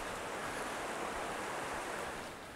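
Steady broadband rushing of the Goat River flowing close to a campsite, continuous and fairly loud with no other sounds.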